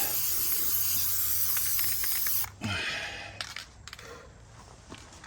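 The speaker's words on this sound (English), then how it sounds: "I'm gonna spray a little bit here. Second coat." A can of Plasti Dip hisses continuously up close for a couple of seconds as it sprays a car emblem, then stops, followed by a few soft clicks and handling noises.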